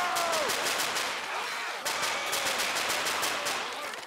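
An M16 fires in bursts in modded Left 4 Dead 2: rapid, fairly faint strings of shots repeat over a few seconds, and a brief voice is heard.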